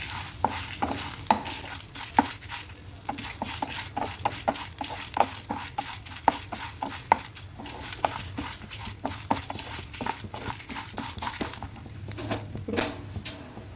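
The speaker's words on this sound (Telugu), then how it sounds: "జీలకర్ర వేసుకోవాలి ఫ్రెండ్స్. అన్నీ ఒక్కొక్కటిగా ఫ్రై చేసుకోవాలి" Cumin seeds and spices frying in a pan for ginger chutney, giving a steady sizzle with repeated sharp stirring scrapes and clicks throughout.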